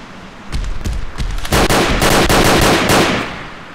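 Gunfire in the browser shooter Tactical Rebels, a few spaced shots giving way to a dense burst of rapid loud bangs that fades near the end, close and with no talk.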